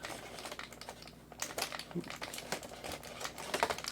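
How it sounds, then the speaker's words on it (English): A taped package is opened with quiet, irregular tearing, crinkling and tapping of tape and cardboard, faint and close, under occasional talk. "we are going to open this because it's taped"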